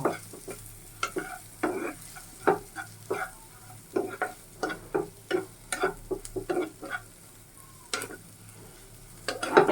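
Rohu fish frying in a pan while being stirred, with repeated sharp spatula scrapes and clinks in an uneven rhythm over a low, close sizzle.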